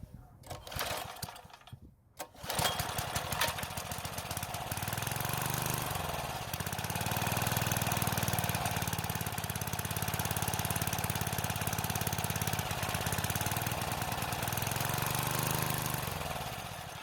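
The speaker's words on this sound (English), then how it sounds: "we were able to get it to start and run for a bit while it was choked" A Craftsman edger's small engine runs choked with a steady, buzzing, slightly uneven drone after a rough start of clattering bursts and a brief dropout, holding loud and continuous to the end.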